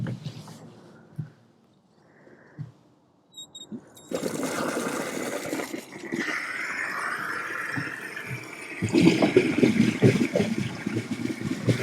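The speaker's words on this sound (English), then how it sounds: "basically tip it down the drain, rinse away any soapy suds and you're done" Grey waste water tipped from a caravan's waste container into a drain, then rinsed down with splattering tap water, giving a run of pouring and rushing water that grows louder and broader partway through, with a voice speaking over it.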